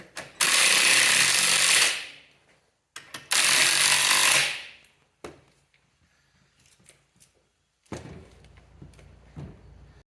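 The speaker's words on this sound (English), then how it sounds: "get the spring compressors opposite each other and let them do their work." Spring compressors are run on a Camaro coil spring by a power tool in two loud, sustained whirring bursts. Scattered metallic clanks follow, then a rougher rattling stretch, close up.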